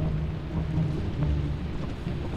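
Steady rain with low rumbling thunder on a rainy moon in the game Lethal Company, a continuous loud wash with no voices.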